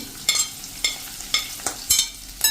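Chopped onions are stirred in a hot pan for a turiya chana dal shaak. A spoon scrapes and taps in a steady rhythm over a soft, constant sizzle.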